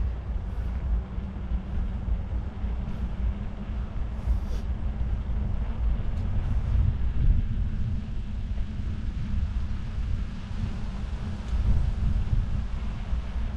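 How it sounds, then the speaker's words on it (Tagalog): Strong wind buffets the microphone during a bicycle ride in a steady, heavy low rumble that gusts and swells throughout, with no voices present. "Malakas ang hangin."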